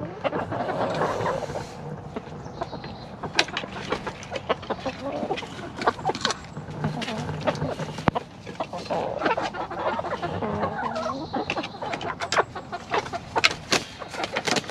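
Delaware chickens cluck intermittently around a homestead, scattered close calls mixed with wind buffeting and handling noise, with some background sounds throughout.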